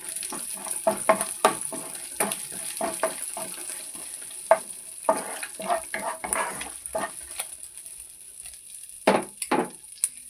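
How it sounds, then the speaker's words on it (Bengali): Cumin seeds and dried chillies sizzle in the leftover oil from frying prawns, tempering for a village-kitchen spinach dish, with a close, steady crackle broken by stirring scrapes and light clinks of a utensil against the pan. "ওই চিংড়ি মাছ ভাজার তেলেই ফোড়নটা দিয়ে দেবো।"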